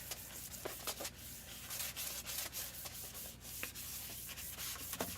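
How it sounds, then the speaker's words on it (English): Very light scuff sanding of a glitter craft clipboard by hand with 400 grit sandpaper, a soft, close, continuous rasping with quick back-and-forth strokes, quiet and even throughout with no talking. "I am going to do a very light scuff sand with 400 grit sandpaper."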